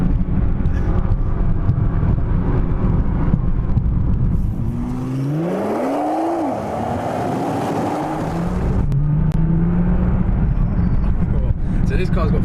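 A Nissan GT-R supercar engine revs and accelerates hard, its pitch climbing steeply in one loud sweep before settling back to a lower drone, with a voice talking over it.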